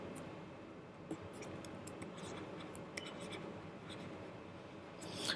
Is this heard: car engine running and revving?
no